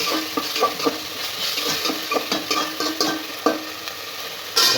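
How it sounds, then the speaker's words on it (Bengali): Chicken fries in oil with ginger and garlic paste, a steady close sizzle broken by repeated scraping stirs and a few clinks of a utensil against the pan, no voices. "সামান্য আদা বাটা, রসুন বাটা দিয়ে চিকেনটা একটু তেলে ভেজে নিচ্ছি।"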